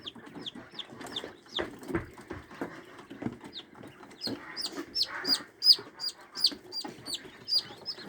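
Hens clucking nearby in short, irregular bursts, with a few sharper high calls mixed in over a soft farmyard background.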